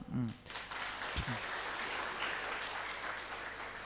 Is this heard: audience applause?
yes